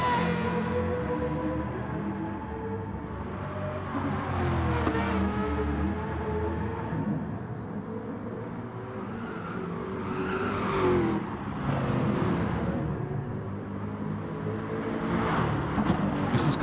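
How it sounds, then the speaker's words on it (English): Corvette race car engine in GT Sport during a Nurburgring 24-hour event, a continuous loud engine note rising and falling through gear changes and corners, with other cars audible nearby and no talk. "The Corvette is an absolute monster through here."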